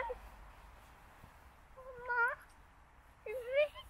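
A house cat gives two short rising meows, clear and fairly close, in an otherwise quiet indoor setting with faint background noise.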